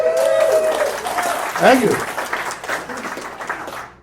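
An audience breaks into applause, a broad wash of clapping that fills the room and fades out near the end, with a speaker's voice briefly over it.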